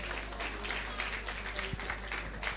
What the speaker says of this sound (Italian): Credo che a lui vada un forte applauso